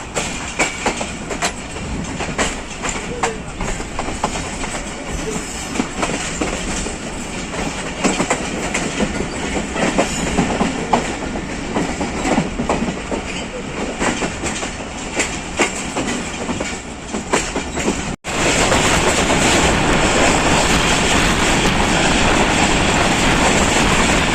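Jaffar Express passenger train rumbling steadily with clickety-clack from the carriages as it crosses from the loop line onto the main line at speed, a continuous loud ride noise that briefly cuts out and returns fuller.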